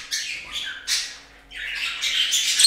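Pet birds in an indoor bird room, budgerigars and finches among them, give loud, harsh squawks in several close bursts with short pauses between.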